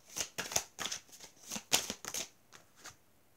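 Tarot cards shuffled and drawn by hand in a string of crisp riffling bursts and soft slaps, close and fairly quiet, with no talk.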